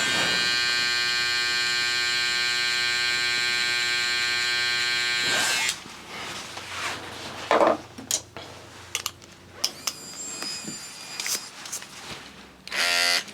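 An electric hair trimmer hums steadily and loudly for several seconds, then gives way to irregular buzzing and clicking bursts while cutting away the bottom line of a buzz cut with an ice pick taper.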